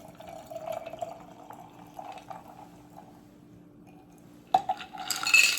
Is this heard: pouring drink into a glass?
yes